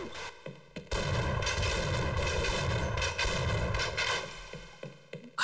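A gun fires inside the video game Half-Life, a loud, dense burst of gunfire that holds for several seconds before tailing off, with no speech over it.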